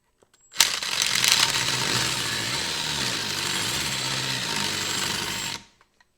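A screwdriver bit drilling and grinding into a screw head set in wood, stripping it out. A loud, steady power-tool whine runs for about five seconds, then stops abruptly, with no talking.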